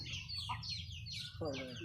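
Farm chickens cluck and chatter in quick overlapping calls, close and lively, with a voice heard briefly partway through.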